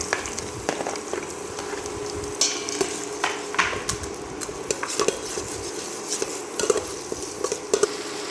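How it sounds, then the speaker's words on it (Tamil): Onions sautéing in a pan for fried egg rice, a low sizzle with frequent spatula scrapes and metallic clinks of stirring, close by. "இப்போ இது கூட ஆனியன் கொஞ்சம் ஆட் பண்ணிக்கலாங்க நல்லா வணங்கி வரட்டுங்க"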